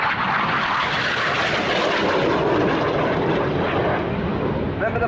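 Aerobatic synchro pair of aircraft flying opposing high-G turns at an airshow, a loud continuous engine roar and rush that swells and fades slightly as they pass, with a commentator talking over it.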